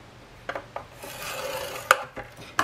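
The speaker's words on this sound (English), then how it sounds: "You're gonna score at 1 inch right here" A scoring tool runs along a sheet of whisper white cardstock, making short, close raspy scrapes with a few sharp taps and no talk.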